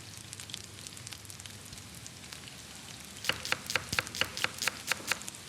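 Oil sizzles steadily in a hot pan on a cooking competition set, then a run of sharp, rhythmic clicks and taps joins in over the last couple of seconds.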